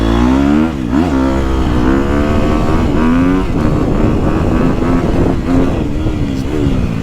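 A 2021 Gas Gas EX250F steel-frame four-stroke dirt bike engine during a ride, loud and close, with the revs climbing and dropping in smooth sweeps between gear changes and throttle blips, continuous throughout.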